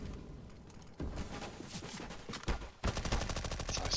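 Gunfire in the game CS:GO, with rapid automatic bursts rattling continuously, the final second a dense, even stream of shots, loud and close with no talk.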